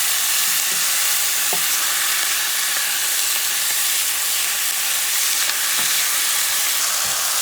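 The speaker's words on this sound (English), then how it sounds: "I'm going to be moving stuff around because I don't want my other ingredients to burn." Rabbit fricassee pieces with potatoes and mushrooms frying in olive oil in a pan, a steady close sizzle running throughout with a few soft scrapes as the ingredients are stirred around.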